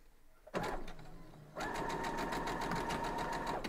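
A sewing machine stitches a seam on a quilt block, starting with a short burst, a brief pause, then a longer steady rapid whir of the needle, close and alone.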